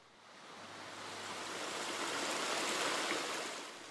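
A rocky forest stream on the Glentress mountain bike trail, running after a day of rain, gives a steady broadband rush that swells gently and stays close and continuous, with no voices.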